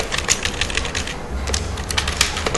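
Steady rapid clicking of computer keys while headings are typed into an HTML file, close and continuous with brief uneven pauses and no talking.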